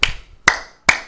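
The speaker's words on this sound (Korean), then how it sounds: "박수치고 있어요." Congregation at a Friday night prayer service in a Korean church clapping in three sharp, evenly spaced bursts, close and fairly loud, with no talk over it.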